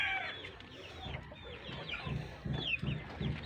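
Native chickens and chicks cluck and peep in a group outdoors, fairly faint and near, with soft chirps and short rhythmic clucks and no talking.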